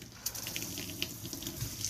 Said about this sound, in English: it'll sputter a little bit because it's trying to get some of the air out of the lines